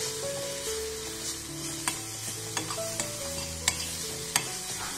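Baby food frying in butter with powdered jaggery is stirred steadily in a pan, producing a soft continuous sizzle punctuated by light scraping and clicking of the spoon against the vessel.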